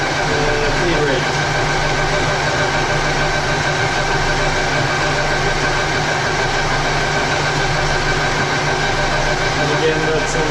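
Metal lathe turning at 355 RPM with a 0.125 mm per revolution feed, while making a shop-built Aloris-style quick-change tool post: a steady machine hum and cutting whine runs throughout. Speech is heard over it.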